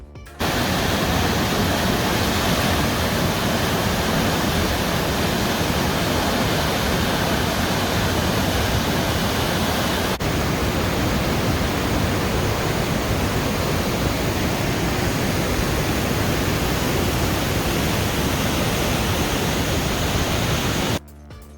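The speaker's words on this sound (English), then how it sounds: "The waterfall has lots of water flowing." Bushkill Falls in Pennsylvania pouring with heavy flow, a loud, unbroken broadband roar of falling water that holds steady for about twenty seconds and stops abruptly.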